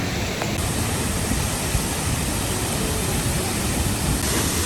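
Waterfall at Ginzan onsen, a hot-spring town in a mountain valley, roaring as a steady, loud, broadband wash of falling water that fills the whole stretch without a break.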